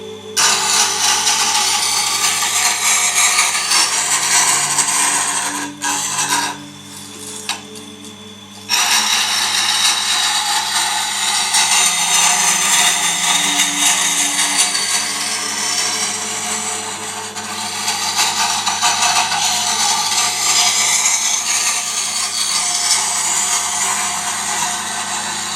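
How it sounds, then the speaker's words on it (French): Woodturning tools sharpened on a bench grinding wheel give a steady, loud broadband grinding whine that runs almost continuously, with one brief dip in the middle, and no talk. "sur la meule."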